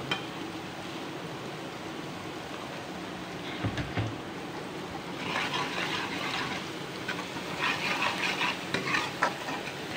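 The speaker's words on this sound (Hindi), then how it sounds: "एक दो मिनट हम इसे पकाएंगे ताकि लहसुन की जो स्मेल है वो कम हो जाए।" Garlic paste frying in a pan, with a steady sizzle and intermittent scraping and stirring strokes throughout, fairly close and with no talking.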